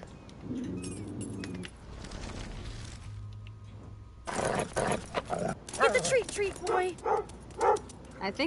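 A dog in the video game Life Is Strange barks in a string of loud, close, repeated barks after a quieter stretch, with a voice talking nearby.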